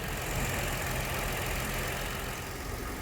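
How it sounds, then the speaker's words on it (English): A car engine idles steadily in a workshop during a vacuum test, a continuous low rumble with no one talking. "So now we have the engine idling"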